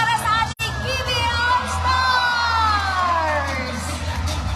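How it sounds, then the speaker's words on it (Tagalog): An arena crowd cheers, whoops and claps for the PBA All-Stars at a Passi City cityhood celebration, loud and sustained, with a long rising-and-falling whoop or siren-like yell over the roar. "isang masigawang palakpak para sa ating PBA"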